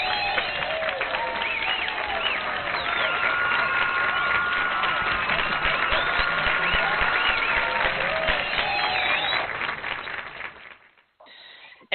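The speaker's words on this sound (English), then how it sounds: "Hit the applause button." Canned applause effect fired from a button, a full crowd of clapping and cheering that holds steady for about ten seconds, then fades out quickly to near silence.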